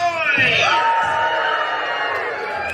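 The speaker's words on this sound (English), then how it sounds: "Scream and make some noise!" An audience at a live comedy show in the Magic Kingdom theme park screams, whoops and cheers loudly, a dense, sustained crowd roar filling the whole stretch.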